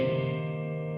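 A heavily distorted piano chord sustains loud and dense, its notes smeared into a buzzing wall of harmonics that slowly decays over about a second, with no talk.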